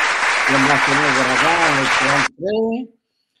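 Audience applause sounds under a loud, sustained voice with shouting or chanting, a dense clapping wash that cuts off abruptly, followed by a short further vocal burst.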